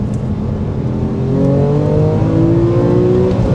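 A 13-year-old Porsche 911 GTS engine revs up while cresting a rise on a road, the rising whine loud and close, swelling and holding at the peak.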